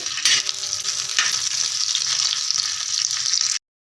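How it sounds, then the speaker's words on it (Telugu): Green chillies frying in a pan while being stirred, a loud, steady close sizzle with occasional scraping strokes, cutting off suddenly at the end. "ఇలా బాగా కలుపుకుంటూ బాగా ఫ్రై చేసేసుకొని సిమ్లోనే పెట్టుకోవాలి"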